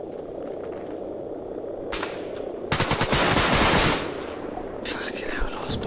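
An AK-12 rifle fires in an ARMA 3 King of the Hill match on Chalkeia: a few single shots, then a loud sustained burst of automatic gunfire, followed by scattered fainter shots over background noise.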